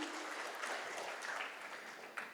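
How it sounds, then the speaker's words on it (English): Audience applause opening a morning talk on collaboration and automation, a dense, even patter of many hands held steady throughout at moderate distance. "applause. Let's start the morning with energy."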